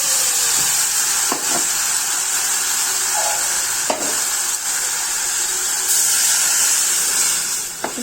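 Spice paste sizzles steadily after being poured into hot oil in a kadai where fish was just fried, giving a continuous close frying hiss with occasional soft stirring clatters.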